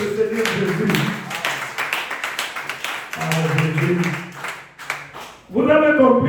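A church congregation at a Tuesday worship service claps for Jesus, scattered applause running under a preacher's voice and other voices, growing louder with singing near the end.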